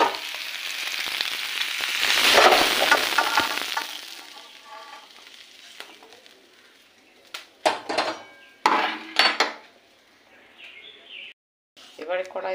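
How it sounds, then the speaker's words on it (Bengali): Fried potatoes are poured and scraped from a hot pan into a bowl, with a loud burst of sizzling frying followed by sharp metal clinks and scrapes, and a voice talking in between. "আলুগুলো বেশ লাল লাল করে ভাজা হয়ে গেছে। এবার আমি একটা পাত্রে ঢেলে নেব।"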